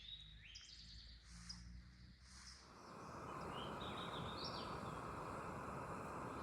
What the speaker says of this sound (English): The birds are really loud this morning.